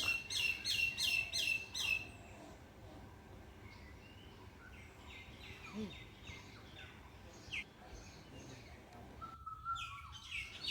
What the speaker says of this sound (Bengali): কত রকম পাখির ডাক